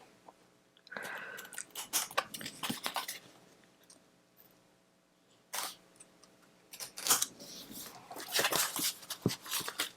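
Scissors trim excess card paper for birthday card bases, giving bursts of crisp snipping and paper rustling at close range, with quiet pauses between bursts and no talking.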